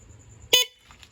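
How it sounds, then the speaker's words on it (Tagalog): One short, sharp honk of a car horn, close and loud, then quiet. "Pagka ang busina nyo negative trigger, bubusina tayo."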